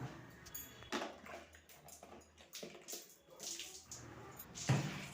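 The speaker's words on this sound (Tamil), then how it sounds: "இப்போ முதல்ல நம்ம அந்த ஸ்லாப் மேலே தண்ணி ஊற்றி விட்டுடலாம்." Water is poured over a bathroom floor slab to clean it: a steady close-up rush and splatter with small surges and drips, fairly quiet, with no talking.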